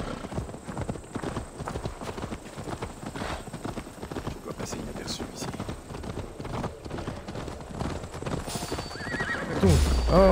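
Horses in the Assassin's Creed Valhalla game neigh and whinny while hooves clop steadily throughout, with a louder whinny near the end and speech in the background.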